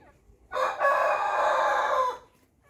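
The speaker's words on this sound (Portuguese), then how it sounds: "Ainda tem muitas galinhas, né, gente?" A chicken on a farm gives a single loud, drawn-out call, close by, lasting over a second and heard alone.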